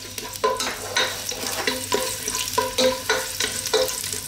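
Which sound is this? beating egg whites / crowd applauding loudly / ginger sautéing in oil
ginger sautéing in oil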